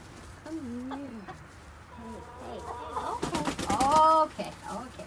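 Backyard chickens at a coop make soft clucks and rising chirpy calls, louder toward the end, as a person speaks to them close by.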